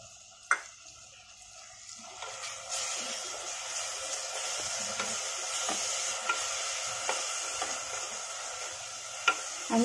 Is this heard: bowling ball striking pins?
no